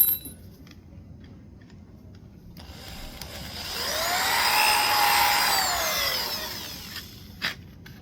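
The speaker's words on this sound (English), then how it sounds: "I'm gonna put this drill bit in here." A hand drill spinning up and boring into the frame of a broken couch, its whine rising, holding for a few seconds, then falling away, close and loud with no talk.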